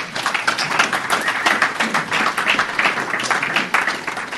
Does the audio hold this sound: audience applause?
yes